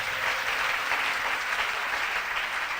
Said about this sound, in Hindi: खुदा के जलाल के लिए जोरदार तालियां बजाएं